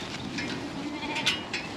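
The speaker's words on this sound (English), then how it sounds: "Oh, sheep, get in the pen." Sheep bleat in a pen on an English countryside farm, several short, high-pitched calls rising over a low rustling background at moderate distance.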